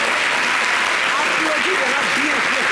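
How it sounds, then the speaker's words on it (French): Applause on a live television talk show, a steady dense patter of clapping that runs the whole time beneath someone speaking. "Lui seul, il a applaudi."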